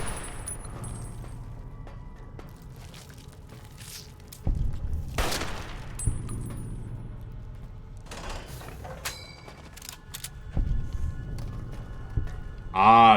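Gunshots at a mantis in Fallout: New Vegas ring out as a few sharp, separate cracks spaced several seconds apart, with quiet ambient game hum between them.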